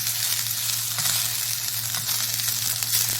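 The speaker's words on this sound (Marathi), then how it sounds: "त्याला थोडं 1-2 मिनिटांसाठी व्यवस्थित परतून घ्यायचं, म्हणजे याचा कच्चेपणा निघून जाईल।" Vegetables sautéing in a quarter spoon of wood-pressed oil, a steady close sizzle with a low constant hum beneath and occasional faint stirring.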